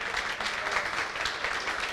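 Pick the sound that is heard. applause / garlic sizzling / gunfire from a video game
applause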